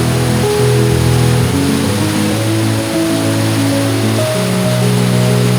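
River water pours over rocks and small pools at the Río Mundo source near Riópar, a loud, close, continuous rushing roar with no voices.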